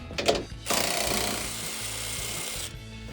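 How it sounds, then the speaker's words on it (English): An electric ratchet with a 15 mm socket turns a bolt while installing upper control arms on a Ford F-150, giving a brief click then a steady loud whirring buzz for about two seconds, close by. "Right, electrical ratchet. Got the 15 millimeter on there."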